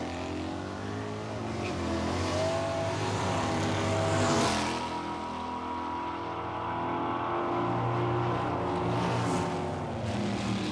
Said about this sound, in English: Here's an AMX with Jerry Quilazar driving against Russ Stover's Cutlass.